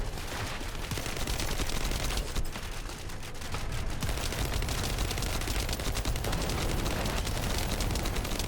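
Dense, continuous gunfire in The First Descendant, shots fired into the air in a thick rattling barrage that stays loud and busy throughout, with rapid overlapping reports.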